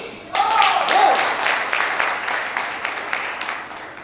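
An audience claps and cheers loudly at a business success celebration, a dense, steady burst of applause that swells at the start and gradually thins toward the end.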